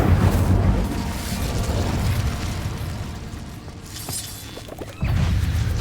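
A fiery burst from the Incendio spell in Hogwarts Legacy roars loudly at the start, decaying into a rumbling crackle, with another whooshing fire blast near the end.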